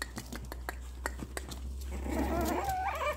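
A Chihuahua puppy whimpers in thin, wavering high whines toward the end, close by, with ticking clicks and a low steady hum beneath it.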